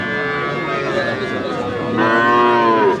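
A Friesian calf moos at close range, one long sustained bellowing call with a second louder rise near the end, heard alone without talk at a livestock market.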